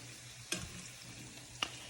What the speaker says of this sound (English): I'm about to throw my first one into the pan. And you'll hear it sizzle a little.